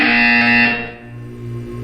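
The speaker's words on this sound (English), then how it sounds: "When you hear the buzzer, look up at the ceiling" A loud electronic buzzer in the video game Portals 2 sounds for under a second, then cuts off, leaving a lower hum.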